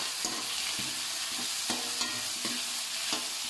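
Chicken ginataan ingredients sauté in a pan with a continuous close sizzle, broken by regular stirring scrapes and clacks about every half second to second.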